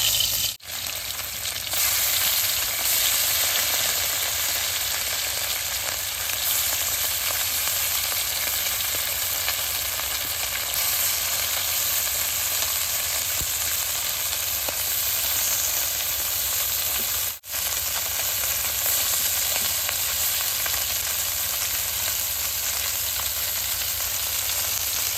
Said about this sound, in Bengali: তেলটা গরম হয়েছে, মাছটি ভেজে নেব।